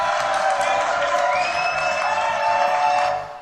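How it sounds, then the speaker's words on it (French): Sustained applause from a studio audience on a French television show, a dense, steady roar of clapping mixed with some cheering that holds for several seconds and then fades. "Applaudissements pour Lila Sol."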